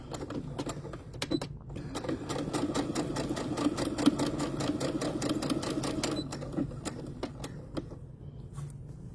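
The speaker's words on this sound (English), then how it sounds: "we're going to sew these, and we're going to chain stitch these also." A sewing machine runs steadily, chain stitching folded fabric along an eighth-inch hem, its rapid mechanical clatter continuous and close, pausing briefly near the start and easing off at the end.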